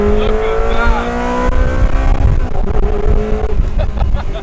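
Ferrari V8 engine revving hard with sharp, abrupt F1 transmission gear shifts, pitch climbing and dropping between changes, loud and close, with someone talking over it.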